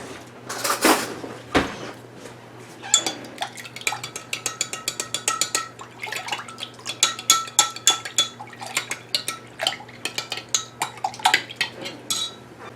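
Mustard salad dressing whisked in a bowl for a watercress and pear salad: a couple of clinks and a thump, then a quick, steady run of metal-on-bowl taps and scrapes, close and moderately loud.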